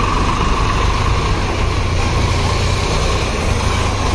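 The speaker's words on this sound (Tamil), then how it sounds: "இப்போ நெக்ஸ்ட்டு சுராஜ் டிராக்டர் உள்ளே வந்திருக்கு" A Swaraj tractor pulls into a sugar mill yard, its engine a steady, loud low rumble with continuous broadband machinery noise throughout and no talking.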